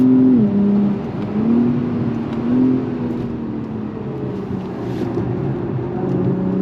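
An Acura TLX Type S AWD sedan on summer-style grip tires rounds a corner, its engine humming steadily from inside the cabin with small rises and dips in pitch as the throttle changes.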